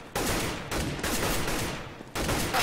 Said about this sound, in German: auch krasser Schuss von Fock